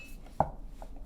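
A knife cuts through the end of a zucchini on a cutting board, one sharp close chop followed by a faint second tap in a quiet kitchen.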